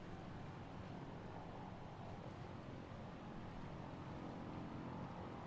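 A small propeller airplane drones steadily through a flight simulator on a bush-style cross-country flight, with a constant broadband engine and prop roar and no speech.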